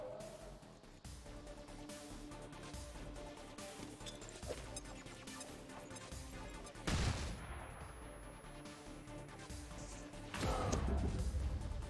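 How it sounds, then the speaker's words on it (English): A grenade explosion in the video game Long War 2 for XCOM bursts out in a sharp blast amid ongoing game effects, followed later by another loud impact. "Oh, that's another grenade explosion,"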